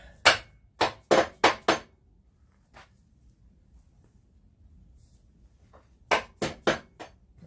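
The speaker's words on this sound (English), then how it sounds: "More hammering." Metal hammer blows ring out during work on a Jeep with a Cummins engine swap, a quick burst of five strikes, a lone tap, then another group of four, loud and close with quiet between.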